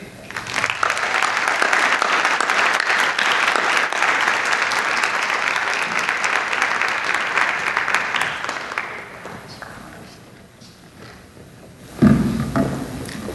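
An audience applauds to welcome a lecturer, Dr. Garcia: loud, steady clapping fills the room for several seconds, then fades, and a voice begins speaking at the end.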